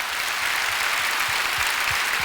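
A church congregation applauds during a prayer service before the sermon, a continuous wash of many hands clapping at an even level throughout, with a faint rhythmic low thumping underneath.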